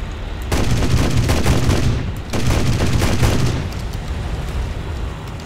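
Heavy 37mm cannons on an IL-2M Sturmovik fire in War Thunder, two loud sustained bursts of rapid thudding shots separated by a brief pause, then fading engine rumble.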